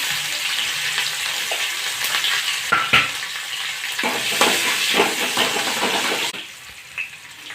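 Curry leaves and green chilies hit hot oil already crackling with mustard seeds for upma, giving a loud, busy sizzle with sharp spatters and pops. The sizzle drops abruptly quieter near the end.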